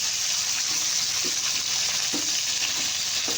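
Large pieces of fish frying in oil in a black wok (karahi), a loud, steady sizzle and hiss with a few soft knocks as the pieces are turned.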